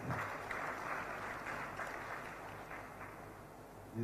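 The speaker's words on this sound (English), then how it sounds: "Another round of applause." An audience at a CEO summit on economic growth gives a steady round of applause, dense clapping that runs evenly and fades slightly toward the end.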